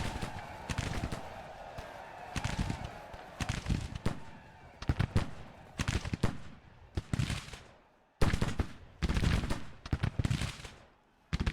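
Massed musket volleys from the Grand Tactician: Civil War video game crackle in repeated ragged bursts, each a cluster of overlapping shots with short pauses between, fairly close and sharp.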